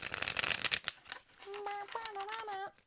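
Tarot cards being shuffled by hand, a dense burst of riffling and slapping up front that gives way to faint handling noise beneath a whistled or hummed tune.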